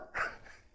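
A mimicry artist voices a single short, sharp dog bark, one quick yelp-like burst trailing into a faint tail, alone and fairly quiet.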